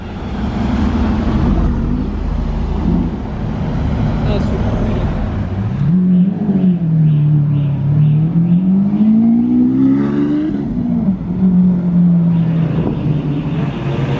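A powerful supercar engine revs up and rises in pitch as it pulls away without headlights in Juan-les-Pins, droning loudly under continuous talking and background street noise.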